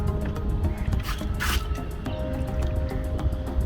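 Water splashing and dripping over the freshly pruned roots of a wild almond bonsai grown from seed, a steady wet squishing trickle with a couple of louder gushes, close up and without speech.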